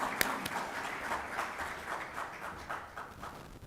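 A book launch audience claps together, a fairly faint but steady patter of applause that tapers slightly as it goes, with no speech over it.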